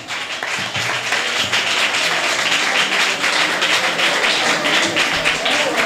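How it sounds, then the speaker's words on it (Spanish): A crowd applauds an artist at a flamenco event, loud, dense clapping that holds steady throughout with no voices over it. "Fuerte el aplauso para él."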